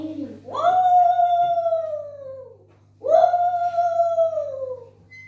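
A storyteller's voice imitates jackals wailing in the darkness, giving two long, rising then falling howls, one after the other, each held for about two seconds, loud and close over a low steady hum.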